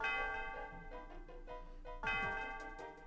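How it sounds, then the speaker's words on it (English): A tower bell rings in a Pokémon Gen 5 game, heard as bright chiming tones over game music, with two clear strikes, one at the start and a stronger one about two seconds in, each ringing out and fading. "But in the end, I got to ring the tower bell."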